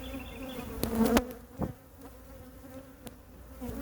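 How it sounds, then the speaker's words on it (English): A bee buzzes trapped inside a beekeeping veil right beside the ear, a close wavering drone with a couple of sharp louder swells as it moves, heard alone. "I'm pretty sure I got a bee inside my veil"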